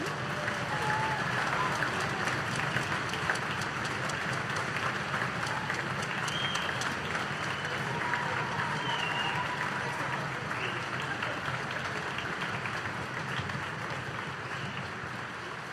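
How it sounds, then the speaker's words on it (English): A school orchestra concert audience gives a long, steady round of applause for a teacher, a dense wash of many hands clapping throughout, with scattered voices and cheers mixed in. "can we give a huge round of applause for the man, the myth, the legend"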